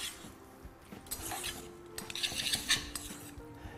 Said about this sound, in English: Pop our fresh dill in, pop some parsley. We're just going to mix this through.